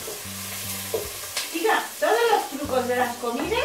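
Onion sautéing in a pan for pumpkin cream soup, a short burst of sizzling and stirring heard under someone talking, with a low hum in the gaps.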